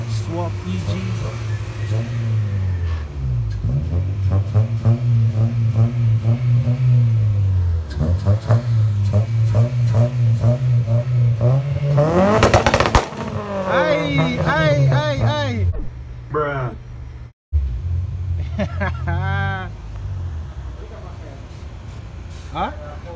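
A Honda EG with an H-series engine swap and a straight-pipe exhaust revs loudly and repeatedly nearby, its raspy engine note rising and falling, while people talk over it.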